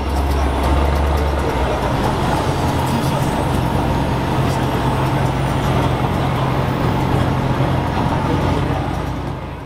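A donk car rumbles loudly close by at an outdoor car show, its engine a deep steady drone with a heavy low throb at the start, amid general background noise.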